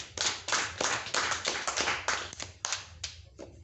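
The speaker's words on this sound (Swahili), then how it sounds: "Pigia ndugu Silas makofi." An audience at a stress-management talk claps for a participant, with steady hand clapping lasting a few seconds that thins out toward the end, close and even in loudness.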